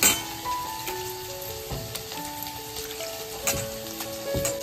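Dried fish being stirred with red chilli masala and turmeric in a hot pan, giving a steady close sizzle and frying crackle with repeated scraping stir strokes and no talking.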